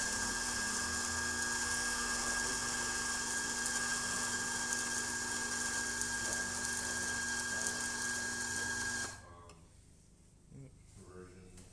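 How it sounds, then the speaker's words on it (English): Lucca Atom75 coffee grinder running continuously with a steady, whirring motor hum and faint grinding texture, fairly quiet and close, cutting off near the end and leaving near silence. "I'm just going to run the grinder."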